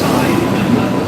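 A New York City subway train produces a loud, steady rumble and rattle that fills the short span, dense and continuous with no distinct clacks.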